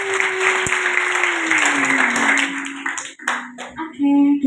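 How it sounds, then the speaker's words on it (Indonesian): An audience at an Indonesian church talk applauds, with steady clapping that thins out toward the end. A voice or tone runs underneath, and a few louder claps come through separately. "Tepuk tangan dulu dong."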